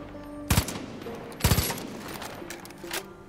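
Two quick clusters of gunshots in Far Cry 5, a tight burst of three or so sharp reports, then another, with fainter shots trailing after.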